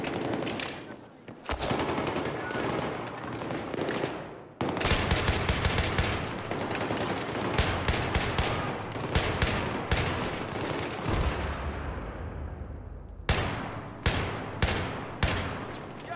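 Gunfire in the Battlefield 3 video game on hard difficulty, dense sustained automatic bursts and rapid shots, loud and continuous, then separate sharp single shots near the end.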